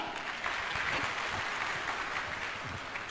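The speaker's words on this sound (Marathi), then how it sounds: "जोरदार टाळ्या होऊ द्या" A crowd at a Shiv Sena election rally in Dharmabad claps in steady, fairly faint applause that lasts throughout.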